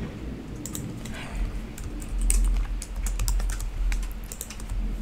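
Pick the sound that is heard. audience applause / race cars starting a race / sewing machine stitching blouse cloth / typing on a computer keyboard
typing on a computer keyboard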